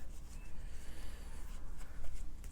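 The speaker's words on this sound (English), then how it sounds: "I'm trying to shuffle and talk at the same time." Tarot cards are shuffled close up in a steady, soft riffling and rubbing of card stock that runs without a break, alone with no talking.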